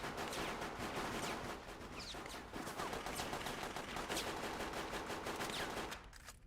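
Rapid dual-pistol gunfire from the Xenosaga video game, a fast continuous stream of sharp shots over a busy battle background that cuts off near the end.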